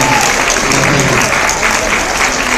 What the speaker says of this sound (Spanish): Todo el mariachi, un aplauso para Silvia Olmos también.